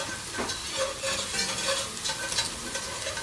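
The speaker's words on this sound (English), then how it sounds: "And you want to move it around because you don't want to burn your garlic." Garlic sizzles in a frying pan while being stirred, a soft, steady frying hiss broken by light scraping strokes of the utensil, fairly quiet and with no talk.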